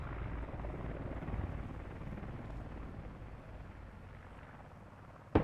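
A helicopter in the Squad video game drones with a steady low rotor rumble and broadband roar that fades slightly over time, ending with a sudden sharp impact-like burst.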